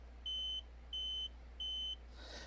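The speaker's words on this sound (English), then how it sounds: "seems like each half cycle it does these 4 beeps" A beeper driven by a 28-bit counter on an FPGA board gives three evenly spaced, clear high-pitched electronic beeps over a quiet low hum, each about a third of a second long.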